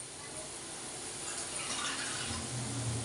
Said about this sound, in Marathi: थोडंसं गरम पाणी टाकायचं